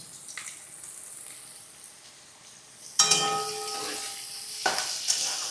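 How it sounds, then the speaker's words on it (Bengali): Carrot and onion go into hot oil for chowmein, bursting into a loud, close sizzle about halfway through, with scraping stirs and clinks over continuous frying. "এবার ওর মধ্যে গাজর আর পেঁয়াজটা দিয়ে অল্প একটু ফ্রাই করে নেব।"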